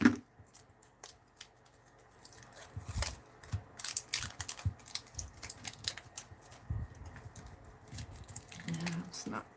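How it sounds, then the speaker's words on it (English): Crinkly crackling bursts of a cellophane wrapper being pulled off a piece of fabric, close by and irregular, with talking heard at the start and end. "It's got a cellophane wrapper on it."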